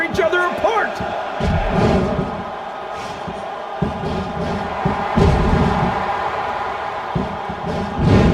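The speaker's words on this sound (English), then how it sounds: "Capacity crowd can't get enough of these superstars." Capacity crowd at a wrestling match, a steady roar of cheering and shouting with scattered thuds and slams from the ring, loud and continuous, and a commentator's voice heard over it.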